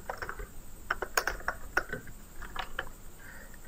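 Irregular clicks and taps of typing C++ code on a computer keyboard, close and fairly quiet, with some keystrokes louder than others and no voices.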